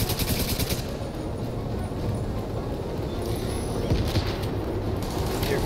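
Sustained rapid gunfire in Division 2, aimed at a Marauder-class quadcopter, a dense close rattle of shots running the whole time with a steady loud level and no pauses.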